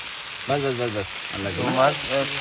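Fish simmering and browning in a pan, cooked down like kosha meat at a night camp on a remote Andaman island, gives a steady sizzle beneath a nearby voice talking in bursts.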